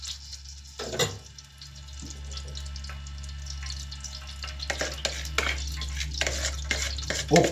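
Food fries in a lightly oiled pan and is stirred, with scraping, clattering utensil strokes over a low sizzle and a steady background hum, close by and with no voices.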